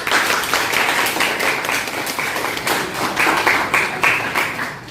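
Students in a classroom give a round of applause, a dense and steady patter of many hands clapping close by for several seconds, with no talking over it.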